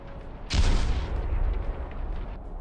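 An explosion blows away a burning tank wreck under a bridge in wartime Ukraine, a single heavy distant boom that rolls into a long rumbling decay, with no voices.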